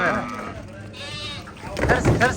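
Sheep bleat in a livestock market pen, several wavering cries close by and overlapping, with someone talking over them.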